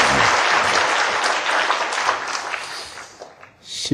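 A church congregation applauds the choir after a hymn at a Sunday service, a loud, full round of clapping that thins out and dies away near the end, with a brief final swell.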